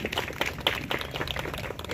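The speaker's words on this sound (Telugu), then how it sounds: "సో వాళ్ళందరి కోసం కూడా ఒకసారి క్లాప్స్ కొట్టాలని కోరుకుంటున్నాం." Audience applause for police counsellors at a district police event, steady dense clapping from a crowd, moderately loud throughout the short stretch, with no talk.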